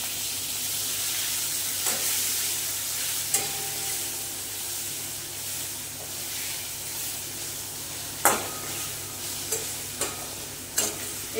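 Small chuno fish frying in a pan of freshly fried spice mix, giving a steady close sizzle broken by a few sharp scrapes and clicks as the pan is stirred.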